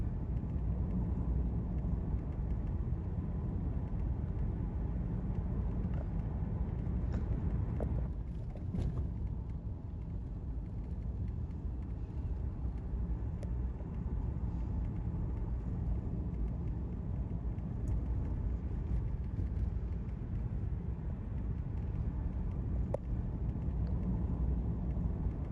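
A car driving at night over a potholed road, a constant low rumble and road roar with vibration and occasional thumps, steady and close, no voices.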